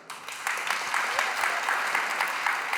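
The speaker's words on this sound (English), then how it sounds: "Please, some applause." Audience applause at a PyData conference talk: a dense, steady clapping from a crowd that swells in quickly and holds at an even level to the end.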